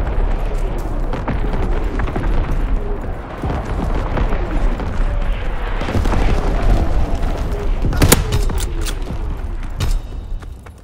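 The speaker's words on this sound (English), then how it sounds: "Firing primary battery." Primary-battery naval guns fire in the video game Call of Duty WWII. Heavy booming blasts arrive in several spaced salvos, with one especially sharp, loud report near the end, over a constant rumbling din.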